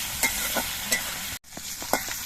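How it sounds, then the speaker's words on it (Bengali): Nigella seeds and green chillies frying in hot oil, a steady close sizzle broken by a few stirring scrapes, with no voices. "কালো জিরে আর কাঁচা লঙ্কাটা একটু ভেজে নেবো"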